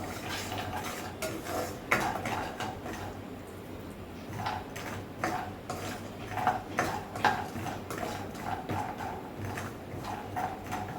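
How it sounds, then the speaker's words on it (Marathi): Almonds roasting in melted ghee in a pan, with a spoon scraping and clinking against the metal in an irregular, close rhythm over a low steady hiss. "आणि बदाम छान तुपामध्ये भाजून घ्यायचे."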